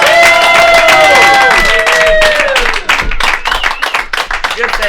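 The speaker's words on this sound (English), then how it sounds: "give her a round of applause" A comedy club audience cheers and whoops, then breaks into rapid, scattered clapping that grows loud and close and stays dense to the end.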